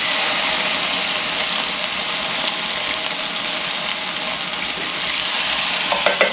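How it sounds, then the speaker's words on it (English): A tomato sauce with a splash of red wine vinegar for spaghetti and meatballs is stirred in a hot pan, giving a loud, continuous close-up sizzle with faint scraping throughout. "Stir that around."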